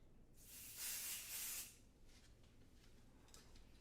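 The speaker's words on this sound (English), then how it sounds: "So hold it about 6 to 8 inches apart and give it a nice spray." One sustained hiss of pixie spray from an aerosol can aimed at a craft panel, lasting about a second, then a few faint short puffs; close and quiet with no talk.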